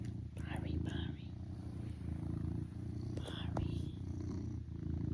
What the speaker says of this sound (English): I don't know if you can hear the purr.